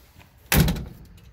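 The door of a 1978 Toyota FJ40 swings shut with a single solid metallic thump, close by, followed by a short fading rattle.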